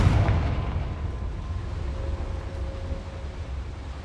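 The Confringo fire spell in Hogwarts Legacy goes off as a deep booming blast with a low rumbling tail that fades over a few seconds, loud and close.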